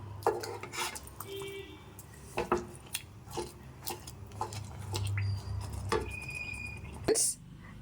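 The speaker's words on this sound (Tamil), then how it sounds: "சேர்த்துட்டு அப்படியே கிண்டி விட்டுக்கலாம்." A spoon stirs a beetroot laddu mixture with milk in a pan, producing scattered scraping and clinking against the metal, fairly quiet with a low background hum.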